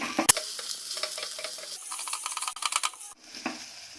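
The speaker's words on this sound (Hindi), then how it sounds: "गैस को सिम पे ही रखना है और इनको लगातार भूनना है।" Steady crackling sizzle of garlic and ginger frying in a pan on low heat, with scraping stirring strokes and a sharp clink near the start.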